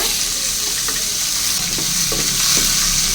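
Carrots, peeled and cut, sauté in a hot pan with a steady broadband sizzle, punctuated by a few soft scraping stirs, close and fairly loud with no voices.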